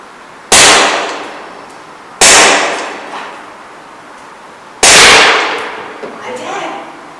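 Three loud, sharp cracks from an ASG CZ P-09 gas blowback airsoft pistol fired at targets in an abandoned building, each shot ringing out with a long echoing tail, spaced a couple of seconds apart.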